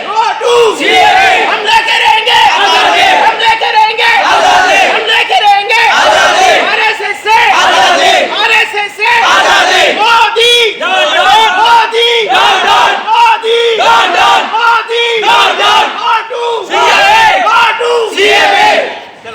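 Hospital staff at Charminar Unani Hospital protest against the NRC and CAA, a large crowd chanting slogans loudly in rhythmic bursts with short pauses between calls.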